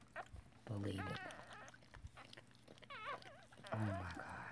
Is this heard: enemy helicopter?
no